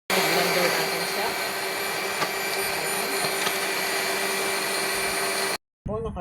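Kangkong (water spinach) and water whirring in a blender, a loud steady motor roar for over five seconds that cuts off briefly before starting up again.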